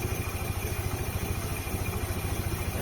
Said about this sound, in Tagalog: Pumapandar ko pa lang yan, hindi pa mainit yung makina dyan.